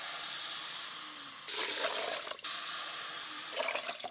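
Water pours from a tap into a pot of rice being prepared for cooking, a steady rushing splash that swells louder in two surges.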